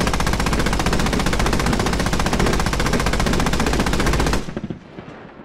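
A vehicle-mounted turret gun in the military game Squad fires a long, rapid, unbroken automatic burst, loud and close, then stops abruptly and leaves a fading echo.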